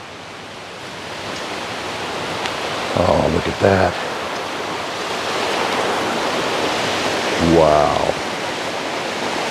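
Steady broadband rush of a mountain creek pouring over rocks along the Roaring Fork Motor Nature Trail near Gatlinburg, continuous and close, with a person briefly exclaiming over it twice.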